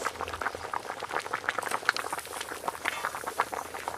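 Cabbage boiling in a covered pot, a dense bubbling patter with irregular small pops running steadily and close throughout, moderately loud with no voices.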